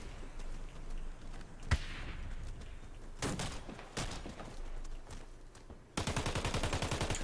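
Gunfire in the first-person shooter Warface: scattered single sharp shots, then a rapid automatic burst at the end, loud and close, with no talking.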